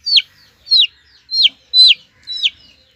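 Chicken suffering from fowlpox and wounds, giving five short, sharp, high-pitched clucking calls spaced evenly about half a second apart, close and clear over a quiet background.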